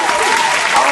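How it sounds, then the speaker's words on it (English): An audience breaks into a round of applause, dense clapping filling the whole short moment, with a voice cheering over it. "Sure, you get a round of applause."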